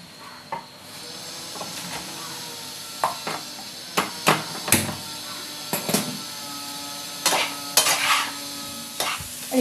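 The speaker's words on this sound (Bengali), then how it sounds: "আলুটাকেও কষিয়ে নেব" Boiled potatoes are stirred and sautéed with spice paste in a pan under a steady low sizzle, while a utensil scrapes and clacks against the metal in irregular, sharp knocks.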